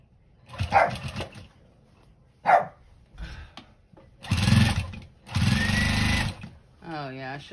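A sewing machine stitches through thick denim quilt seams in short bursts of whirring with pauses between them, while a person talks in the gaps.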